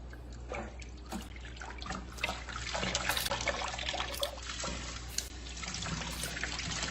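Tap water runs steadily into a sink as greens are rinsed and scrubbed by hand, a soft continuous trickle with faint splashes and occasional small clatters, heard fairly quietly up close.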